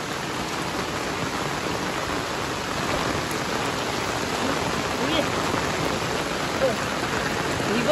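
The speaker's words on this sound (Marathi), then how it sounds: "खूप जोरात पाऊस आहे." Heavy monsoon rain pours steadily in the Konkan countryside, a dense, continuous hiss of drops beating on surfaces, evenly loud and close for the whole stretch with no pauses.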